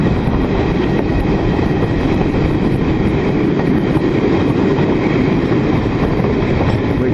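A railtour train running on a freight-only line, with a steady, loud, continuous rumble and rattle of wheels on track heard from on board, with no voices.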